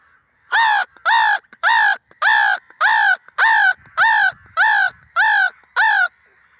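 A voice imitates a crow, giving ten loud, harsh caws in an even, regular rhythm with short pauses between them.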